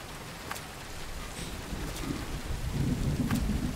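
Rain and rolling thunder in the video game Road 96, a steady wash of rainfall with low rumbles building louder toward the end and a few brief crackles, no talking.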